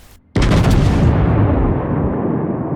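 A heavy World of Warships battleship, the Arizona, fires a gun salvo: one sudden, loud, deep boom that holds as a long rumbling roar and fades slowly.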